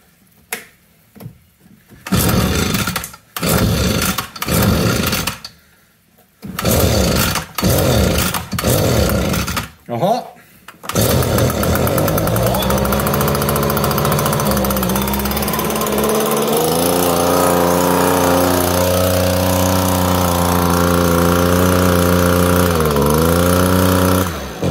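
Echo PB-250 two-stroke leaf blower engine, under repair, sputtering through several short bursts before catching and running steadily at full throttle, loud and close, with its pitch shifting as the revs change.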